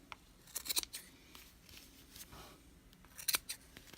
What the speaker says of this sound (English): I'm using each of those sides as a guide to keep my scissors straight and what I'm trimming straight.